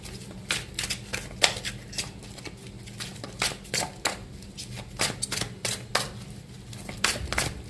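A deck of tarot cards is shuffled in quick, rhythmic riffling bursts, repeated many times at close range and fairly soft, with a low hum underneath and no speech.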